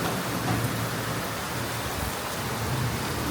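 Heavy rain pours down steadily in a rural village, a dense, even hiss that stays constant and close with no breaks.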